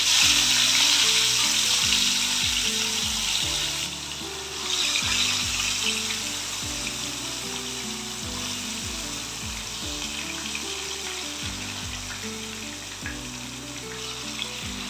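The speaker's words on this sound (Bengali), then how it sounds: "এবার আমি আস্তে আস্তে ম্যারিনেট করা যে তেলকইগুলো সেইগুলো" Marinated koi fish frying in hot mustard oil, a loud, steady broadband sizzle that runs throughout with a few brief dips, alone with no talking.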